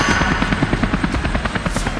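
A helicopter's rotor thumps in a fast, steady rhythm, loud and close, with a whining engine drone underneath.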